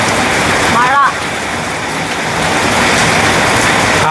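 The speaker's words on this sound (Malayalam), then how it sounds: "ഭയങ്കര മഴ" Heavy morning rain falls in a steady, dense rush that fills the whole stretch without a break, close and fairly loud throughout.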